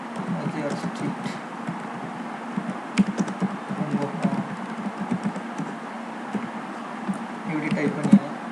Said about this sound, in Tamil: இப்படி டைப் பண்ணிடலாம்